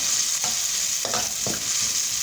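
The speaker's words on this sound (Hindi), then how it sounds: "यहाँ प्याज हमारा अच्छी तरीके से फ्राई हो गया है।" Onion fries in a pan for a homemade tomato soup, a steady loud sizzle with a few brief scraping stirs of a spoon, heard close with no talking.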